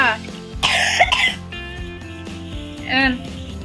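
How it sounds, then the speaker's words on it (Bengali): A child coughs in two close, harsh bursts, one early and one near the end, with other sounds continuing in the background. "কাশি হচ্ছে শুধু, পানি খাবেন, একটু পানি খেয়ে নেন।"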